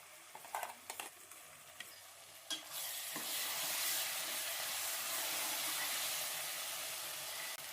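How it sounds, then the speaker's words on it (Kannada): Ground masala hits hot oil with peas already in the pan: a few scraping stirs, then a loud, steady, hissing sizzle that swells and holds, close up with no voices. "ಈ ಮಸಾಲೆನ ಚೆನ್ನಾಗಿ ಫ್ರೈ ಮಾಡ್ಕೋಬೇಕು."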